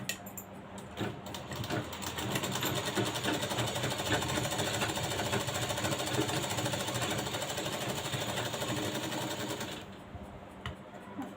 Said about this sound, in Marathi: आणि इकडच्या साईडला शिलाई मारायची आहे